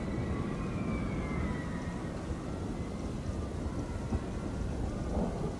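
Light rain weather in the Planet Coaster 2 game gives a steady, dense wash of falling rain with a low rumbling undertone, continuous and fairly loud, with no voices.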